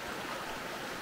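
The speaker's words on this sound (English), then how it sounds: "looking down a mountain river" A mountain river at Crabtree Falls in the Blue Ridge Mountains, its water rushing as a continuous, even broadband roar with no voices or breaks.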